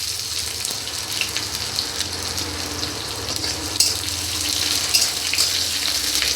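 Onion frying in a pan with a dried chilli and panch phoron while a Bengali dish of bottle gourd greens and shrimp is being cooked; a steady loud sizzle with occasional stirring sounds and no speech.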